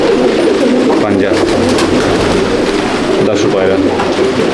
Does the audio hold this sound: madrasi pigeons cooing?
yes